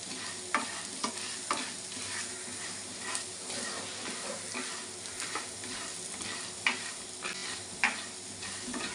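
Curry leaves frying and being stirred in a pan for chutney: soft steady sizzle broken by irregular spoon scrapes and light taps against the pan, close but quiet, no voices.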